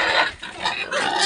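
A fast-growing backyard pig grunts and squeals close by in a pen, two or three rough, loud bursts within a second or so.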